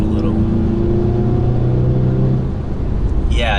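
A Mercedes C300 4MATIC holding 4th gear while accelerating, its engine giving a loud, steady, close droning rumble from inside the cabin that climbs gently in pitch, then a brief higher whine near the end.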